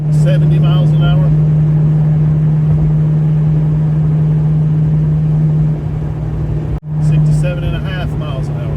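A Fox Body Mustang with a FlowMaster exhaust cruises on the highway with the windows up, giving a loud, steady low drone that runs continuously, with a brief dropout near the end and a voice talking over it at times.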